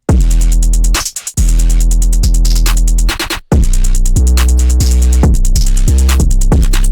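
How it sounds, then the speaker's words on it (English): A drum pattern plays loud and dense, with booming, pitch-sliding 808 bass hits under fast, rapid hi-hats and snappy percussion, cutting out briefly twice before the groove resumes. "So here's what all these drums sound like together."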